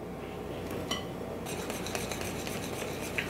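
Gluten-free snickerdoodle dough being mixed in a bowl after the dry ingredients go in, with quick scraping and clinking utensil strokes against the bowl, close and steady.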